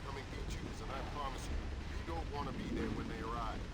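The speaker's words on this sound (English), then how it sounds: "Everything is exploding." Booming explosions from the Splinter Cell video game rumble continuously at close range, a dense low roar layered with crackling bursts, while voices talk over the chaos.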